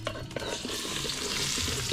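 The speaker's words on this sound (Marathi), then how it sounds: "कांदा टाकला" Chopped onion fries in hot oil in a pan for a spicy village chicken curry cooked outdoors, giving a steady, close, loud sizzle without talk.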